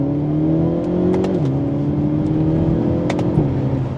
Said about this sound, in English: From second gear, pedal to the floor.